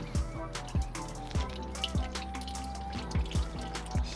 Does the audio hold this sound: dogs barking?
no